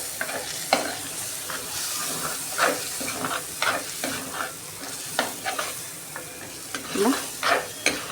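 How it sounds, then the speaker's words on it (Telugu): Chicken curry with masala being stirred in a pot, close scraping and clattering spoon strokes over a steady frying sizzle, irregular and fairly loud, no talking. "ఇప్పుడు మొత్తం మిక్స్ చేసుకుందాం."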